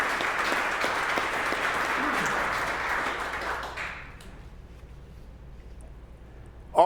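Audience applause at a city State of the City address fills the first four seconds as a dense, steady wash of clapping, then drops off to a quiet room tone with a brief bump at the very end.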